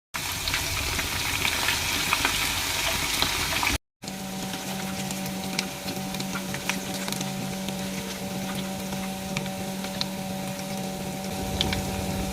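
Garlic tadka sizzling in desi ghee for sarson ka saag, a continuous close crackle and hiss of frying with small pops and a faint steady hum underneath, interrupted by one brief gap.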